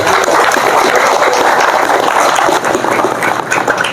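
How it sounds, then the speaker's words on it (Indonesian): Audience applause at an Islamic religious lecture and debate gathering in Indonesia, a dense, steady clatter of many hands clapping continuously throughout with no voices over it. "Tepuk tangan dulu."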